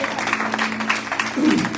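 A church congregation claps for the Lord during a Spanish-language service, a brief spell of scattered applause mixed with a sustained tone and some murmured voices.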